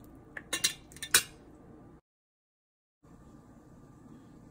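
Quick clinks and taps of cutlery against a bowl as a tomato, avocado and cucumber salad is moved onto a serving plate, a few bright metallic hits, then a gap of silence and a soft room hum.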